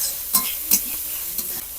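Chopped capsicum stirred with ginger-garlic paste and spices in a frying pan: a few distinct scraping strokes of the spatula over a low sizzle, close and clear, without voices.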